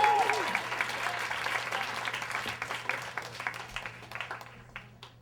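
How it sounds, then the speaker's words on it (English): A theater audience gives a big round of applause as a storyteller takes the stage, dense clapping and some cheers that gradually thin out over several seconds. "Big round of applause."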